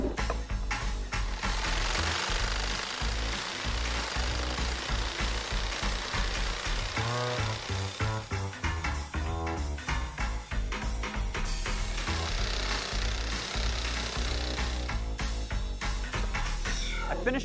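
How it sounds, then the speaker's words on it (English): A saber saw cuts through wind turbine blade stock clamped to a table, a continuous loud buzzing, rattling drone that wavers in pitch as the blade bites, running steadily with no talk. "I'm actually gonna use my saber saw and just clamp it to the table, do half the cut, and then flip it around and do the other half."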